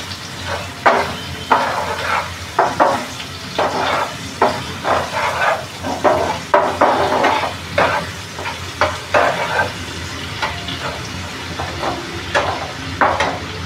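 Onion sautés in a pan for anda bhurji, a soft frying sizzle broken by repeated rhythmic scrapes and stirs of a spatula, close and fairly loud.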